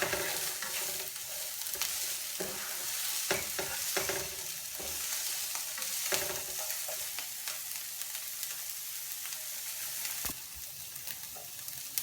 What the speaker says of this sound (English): Now our onions and celery are starting to cook down.